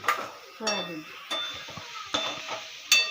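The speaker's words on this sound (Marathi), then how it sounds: "तर सोयाबीनची भाजी बनते आज सोयाबीन वडे" Soybean vegetable curry cooks in a pan in a home kitchen, with a spoon scraping and clinking against the pan amid a soft sizzle, a few distinct strokes heard up close.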